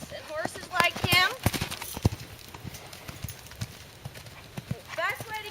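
A horse moves quickly around a round pen during training, its hooves clip-clopping in a rapid, uneven series of close knocks while someone talks over them.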